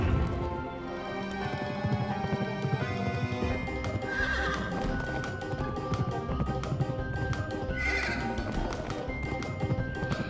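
Ghost horse in the video game Pumpkin Jack whinnying over steady galloping hoofbeats, with the neighs rising clearly twice above a dense, continuous game soundtrack, loud throughout.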